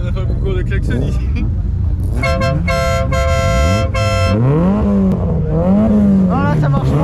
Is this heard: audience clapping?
no